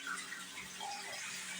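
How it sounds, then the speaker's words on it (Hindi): Hot water running steadily from an instant electric water heater tap into a sink, a continuous soft splashing hiss that stays even and fairly faint throughout. "अब गर्म पानी आ चुका है"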